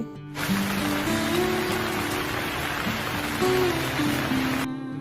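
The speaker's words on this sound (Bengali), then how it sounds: "ও মা দেখো বাইরে কত সুন্দর বৃষ্টি হচ্ছে" A cartoon rain sound effect gives a steady, dense patter of falling rain outside, over a soft background music tone, ending abruptly.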